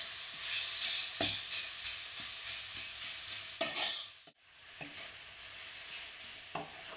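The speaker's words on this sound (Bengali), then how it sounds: "যতক্ষণ না নারকেলের সাথে গুড়টা গলছে ততক্ষণ আমাদেরকে নেড়েই যেতে হবে।" A spatula stirs grated coconut with melting jaggery in a pan, making a continuous hissing sizzle broken by scraping strokes and a brief pause near the middle, close up, with no voices.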